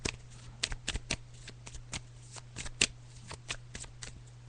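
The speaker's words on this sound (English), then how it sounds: "So I'm just shuffling the cards." A deck of tarot cards is shuffled by hand, making rapid, crisp riffling snaps in uneven bursts, close and fairly quiet against a low steady hum.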